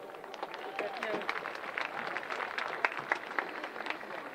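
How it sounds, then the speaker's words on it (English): A concert-hall audience at a high school all-star charity game claps and cheers, a fairly faint, spread-out patter of applause with a voice over the top. "Give yourselves a round of applause."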